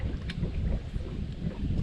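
Cold wind gusting across the open James River while fishing from a boat, a steady low rumbling roar of wind buffeting the microphone, continuous and fairly loud with no voices.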